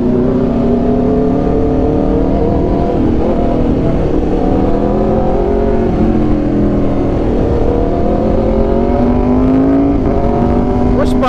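A 2019 Aprilia RSV4 1100 Factory with an SC Project exhaust rides on a city road, its engine droning loudly and steadily with gradual pitch rises as it accelerates amid surrounding traffic noise.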